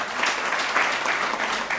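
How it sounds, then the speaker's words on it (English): Steady applause from an audience at the official unveiling of a political party in Nigeria, a dense wash of many hands clapping continuously throughout, loud and close with faint voices mixed in. "Give that a round of applause."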